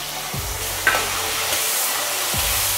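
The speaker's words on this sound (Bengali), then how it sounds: "তো এখানে দেখতে পাচ্ছ ফুটফাট আওয়াজ হচ্ছে একদম গরম তেলে" Tomatoes hitting hot oil mixed with a large spoonful of ghee give a steady broadband sizzle and crackle, with a few soft stirring knocks and one sharp pop near the start, no voices.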